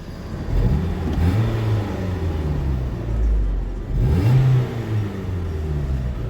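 A Renault Megane 1 engine with low compression runs close by, a steady mid-pitched hum with two revs that rise and fall, and no voices.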